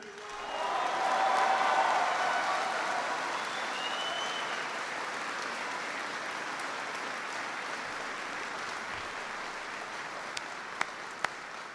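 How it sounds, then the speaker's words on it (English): Crowd applause from a large gathering of troops at Camp Pendleton honoring military families, rising quickly to a loud swell then holding steady as a broad, sustained wash of clapping with a few cheers, a couple of sharp pops near the end. "I want everyone to give a big round of applause to the amazing families who serve along with you."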